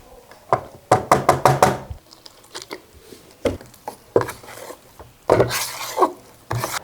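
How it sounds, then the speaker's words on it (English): Quick-setting 20-minute drywall mud is mixed in a small container, with a rapid run of knocking, sloshing strokes followed by scattered scraping and tapping of the mixing tool against the sides, close and fairly loud. "We can mix the first bit of mud, and this is 20-minute mud"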